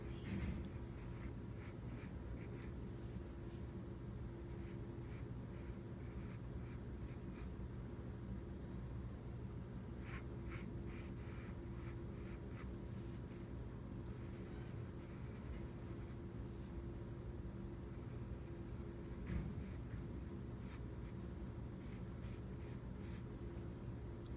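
Pencil strokes scratch lightly on paper while leaves in a still life are drawn, in soft bursts of quick strokes over a steady background hiss.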